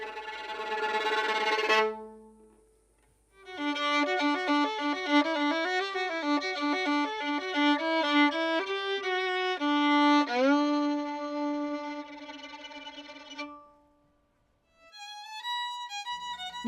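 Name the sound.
bowed string ending tremolo swelling into zinger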